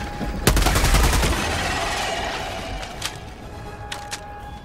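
A rapid burst of automatic gunfire in Helldivers 2 fighting bugs, loud and close, followed by a lingering roar and a few scattered later shots.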